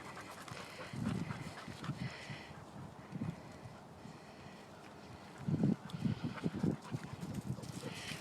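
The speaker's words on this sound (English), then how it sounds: "What you panting so hard?" A dog pants in quick, rhythmic breaths close by, with a few louder bursts partway through.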